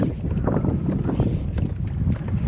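Steady wind on the Florida flats buffets the microphone with a constant low rumble and gusty noise throughout.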